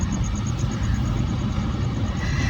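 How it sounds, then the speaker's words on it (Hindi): A car engine hums steadily while driving, a low continuous rumble heard from inside the vehicle, with no talking over it. "मान चला रहा है गाड़ी।"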